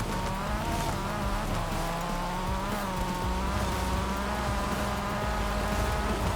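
A 2017 Porsche 911 RSR race car in Forza Horizon 5 roars at high revs, its engine note rising and shifting continuously, loud and up close, with occasional tire noise.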